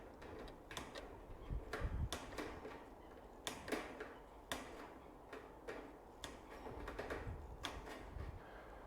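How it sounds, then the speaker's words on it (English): Hand cutters snip old mesh to size while an old polytunnel frame is turned into a fruit cage. The snips come as a series of sharp, quiet clicks at an irregular pace, close by. "I'm just going to come along here now with the cutters and trim it to size"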